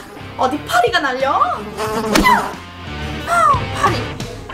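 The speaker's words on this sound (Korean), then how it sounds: "아, 파리!" A housefly buzzes around a slime tanghulu shop in a cartoon scene, sounding as a steady, wavering drone close by while music and other sounds play underneath.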